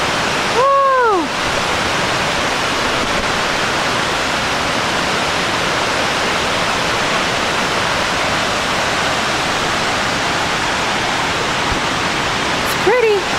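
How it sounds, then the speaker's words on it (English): A waterfall roars loud and steady from start to finish, with a brief voice breaking in near the beginning and again just before the end. "More waterfall."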